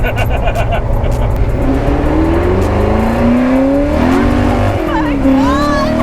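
A street-legal race car cruising in fourth gear gives a loud, steady engine drone with a low rumble throughout, its pitch rising and easing slightly. Faint voices can be heard beneath it.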